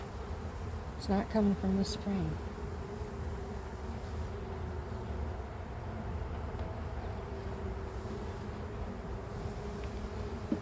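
A honeybee queen in a nuc hive gives a faint, steady hum beneath a busy colony drone, and someone speaks briefly near the start.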